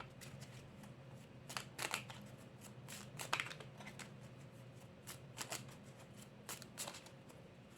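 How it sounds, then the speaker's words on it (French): Tarot cards are shuffled and drawn from a deck, with soft, faint papery riffles and flicks coming in short, irregular bursts, quiet and close with no talk. "On va aller prendre notre carte."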